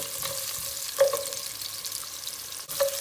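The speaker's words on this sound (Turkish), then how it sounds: "Havucumuzu çok az bir kavuracağız, kızartacağız." Carrots frying in a pan, a steady close sizzle with brief clatters of stirring and no talk.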